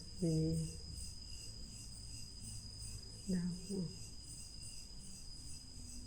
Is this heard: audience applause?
no